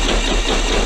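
An engine churns steadily and loudly as it tries to start, a dense low rumble that does not catch during the brief moment.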